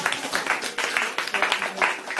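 A class claps together in a short burst of uneven, overlapping applause lasting about two seconds, fairly close, with no voices.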